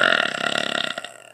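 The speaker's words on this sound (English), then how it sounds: "we even got a burp in this video." One long, loud, rumbling burp rolls on for over a second, close to the microphone, with no talking over it.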